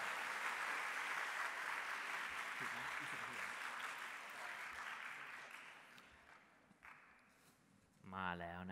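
Crowd applause and cheering for a school marching band at the MAI Championship 2019 band contest, a dense steady wash of clapping that slowly thins out, with brief voices near the end.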